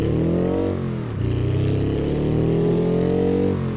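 An Autobello Piccolina car engine in a video game revs hard and continuously, dipping briefly as the pitch drops, then climbing again into a loud, sustained roar.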